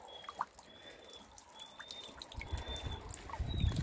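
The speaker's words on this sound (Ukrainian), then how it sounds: "Капає з криші сніжок, бачите?" Melting snow drips from a roof on a winter day, with scattered light drips and a trickling patter outdoors, soft and somewhat distant, as a low rumble builds toward the end.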